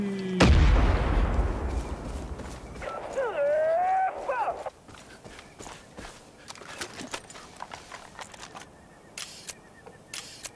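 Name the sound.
bomb explosion in Far Cry 5 video game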